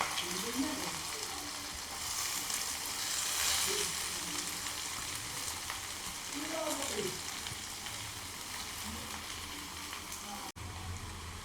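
Chopped onions frying in very hot oil give off a steady crackling sizzle with occasional stirring scrapes, close and moderately loud, while a voice talks over parts of it.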